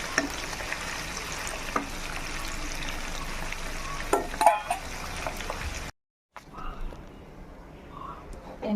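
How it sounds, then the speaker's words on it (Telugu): Eggs frying in hot oil in a pan on a kitchen stove, with a continuous close crackling sizzle and a few sharper spatters, broken off briefly near the end before the sizzle resumes. "చిన్న చిన్న ఘాట్ల కింద పెట్టేసుకుని ఎగ్స్ వేపేసుకుంటున్నాను నేను"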